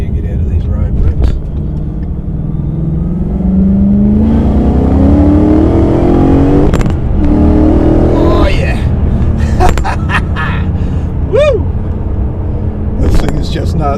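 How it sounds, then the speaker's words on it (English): A supercharged Whipple Mustang GT on an E85 tune revs hard and accelerates, the supercharger's rising whine climbing in pitch above the roar, with a person talking over it. "hopefully you can hear that supercharger whine when it kicks off"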